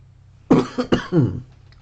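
A single burst of coughing, close and fairly loud, a few rough hacks in quick succession against a quiet background.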